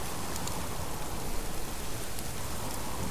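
Steady rain falls in the survival game Subsistence, a dense, even hiss that stays constant throughout with no voices or other sounds over it.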